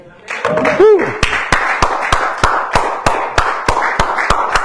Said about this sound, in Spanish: Aplaudo al Rey.